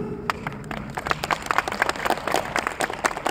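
An audience at a concert by an invited singer at a provincial eco-friendly farmers' convention claps steadily, a dense run of sharp hand claps that keeps going at moderate loudness without pause.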